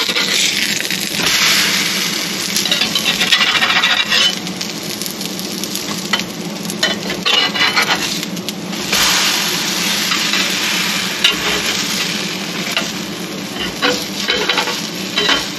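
Food sizzles and fries steadily in a pan on medium heat, a loud continuous crackle with occasional scraping and stirring clatter as pieces are flipped, no talking.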